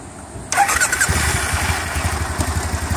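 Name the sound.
2010 Triumph Bonneville SE motorcycle engine starting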